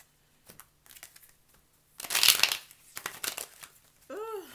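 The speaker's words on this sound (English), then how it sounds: "I don't want these cards to fall, guys. You guys know how hard it is to shuffle" A deck of cards is shuffled by hand: a few soft, scattered riffles and taps, then a louder burst of crisp flapping and rustling, followed by more brief card riffles close up.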